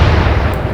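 A warship's guns fire a salvo in the Atlantic Fleet naval game. It comes as one short, loud, rumbling blast with heavy low-end boom.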